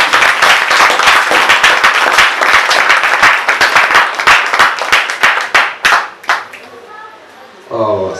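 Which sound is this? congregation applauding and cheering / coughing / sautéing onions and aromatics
congregation applauding and cheering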